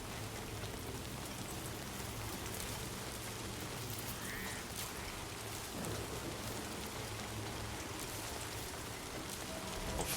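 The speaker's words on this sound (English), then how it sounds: "can you turn the rain off again after you've summoned it?" Rain falling in the video game Death Stranding 2, a steady, dense hiss of drops pattering on surfaces with faint low rumbles, continuous and even throughout with no talking.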